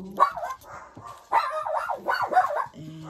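Several dogs bark excitedly indoors in loud, repeated bursts with short pauses between them, close to the listener.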